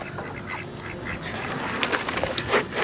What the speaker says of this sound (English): Let's see how it does running over ducks.